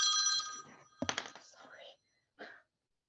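Mobile phone ringtone going off during a city nominating committee meeting: a bright electronic ring at the start that fades out, followed by a clatter and a few soft voices in the room.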